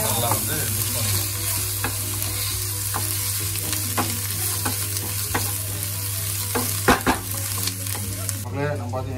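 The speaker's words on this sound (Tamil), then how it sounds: "இஞ்சியும் பூண்டியும் அரைச்சி அந்த விழுதை வந்து நம்ம விழுதை போட்டு நல்லா வந்து ஆல்ரெடி வெந்துட்டு வெங்காயம் கூட நல்லா வந்து மிக்ஸ் பண்ணிக்கலாம்" Ginger garlic paste is stir-fried with already cooked onions in a pan for dhaba-style mushroom gravy, a steady sizzle under repeated sharp scraping strokes of a spoon, close and without talk.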